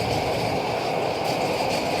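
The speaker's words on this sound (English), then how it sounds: "the Bart train is going." A BART train passes close by in the Bay Area, a loud continuous rumbling roar with rail noise and faint wheel screech, steady throughout with no talking.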